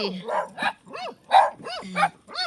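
Dogs on a farm at night bark and yip in short, close bursts, several sharp calls spaced unevenly across the moment, mixed with human voices.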